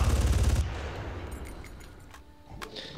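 Gunfire in the Far Cry game, a loud dense burst of rapid shots in the first half-second, then fading into scattered fainter shots and clicks.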